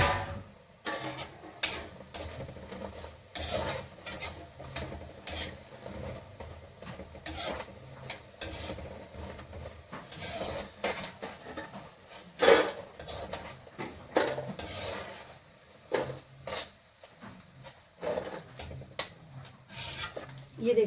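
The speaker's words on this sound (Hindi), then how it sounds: "अब हम पकौड़े निकाल रहे हैं" Fried pakoras are lifted out of a pan with repeated scraping and clinking of a metal utensil against the cookware, coming in irregular bursts at close range, with no voices.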